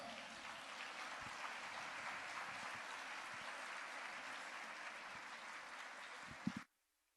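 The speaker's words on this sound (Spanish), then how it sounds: "Vamos a recibir con un fuerte y cariñoso aplauso al Padre Armando." Audience applause at a talk, steady dense clapping from a large crowd sustained for several seconds, then cutting off sharply near the end.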